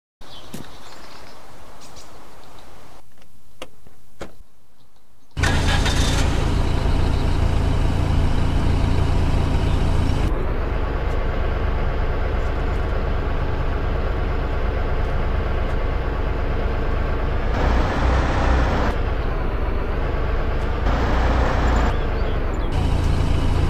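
A V3S military truck in the game DayZ Standalone starts up after a few quiet seconds, then its engine runs with a loud, steady diesel drone that shifts in pitch as it drives off.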